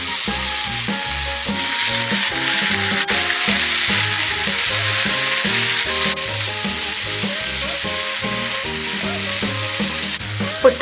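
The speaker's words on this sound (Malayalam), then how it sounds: "വേവിച്ച് വെച്ച ചെറുപയർ ചേർക്കാം." Cooked, salted green gram stir-fries in a pan with a steady, close sizzle and occasional stirring, over continuous background music and with no talking.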